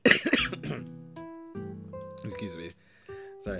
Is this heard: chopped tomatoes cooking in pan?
no